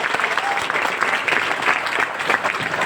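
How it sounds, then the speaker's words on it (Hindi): Lively applause from an audience at a direct-selling seminar in Siwai, many hands clapping densely and steadily at close range, with loudness rising and dipping slightly. "एक बार तालियां बजा के बताइए कैसा अच्छा लग रहा है"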